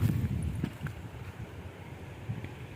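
Blustery wind buffeting the microphone in rumbling gusts that swell and ease over a few seconds, outdoors during a kite test flight.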